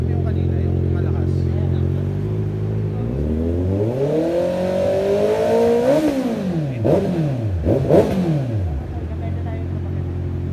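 A 2021 Honda CB650R inline-four motorcycle revs through its exhaust, climbing from a rough idle to a high, smooth wail. It drops back and gives several quick blips before settling, with voices faintly underneath.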